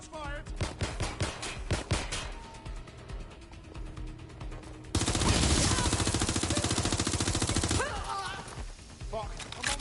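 Rapid bursts of gunfire in the video game Watch Dogs, with repeated cracking shots, a dense loud fusillade in the middle and shouting voices between the volleys.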